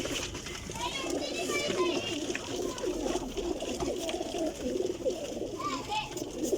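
Sialkoti golden teddy pigeons coo and call close by in a short run of soft warbling notes, heard under steady talk with children's voices in the background.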